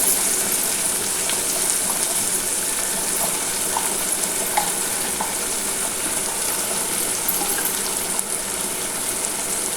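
Liver sautéing in a pan with tomato that has already been fried soft, a steady close sizzle with faint stirring scrapes throughout, no voices.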